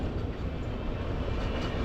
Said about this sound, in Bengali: এখান দিয়ে আবার ট্রেন যাচ্ছে